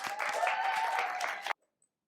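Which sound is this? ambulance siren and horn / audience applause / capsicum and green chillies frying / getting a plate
audience applause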